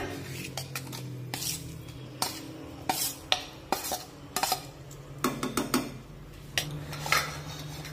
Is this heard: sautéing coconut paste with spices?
yes